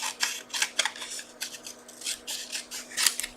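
Scissors snipping through cardstock for a handmade stamped card, a rapid run of close, crisp crunching cuts with a short pause midway.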